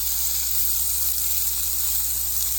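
Beyond Meat meatballs searing in a hot cast iron pan give off a steady, even sizzle with bright hissing that holds constant throughout, close and with no talking.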